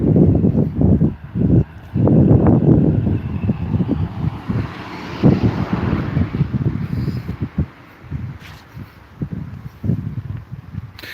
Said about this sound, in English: It's still a bit windy though.